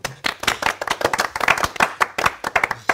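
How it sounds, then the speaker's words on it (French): Lively applause from a French comedy show studio audience, crisp close claps in a brisk, uneven patter that carries on throughout. "On applaudit, s'il vous plaît."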